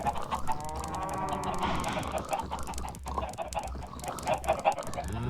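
Chickens in the video game Minecraft cluck and squawk in a busy, overlapping chorus at moderate level, with a low steady hum underneath and no talk.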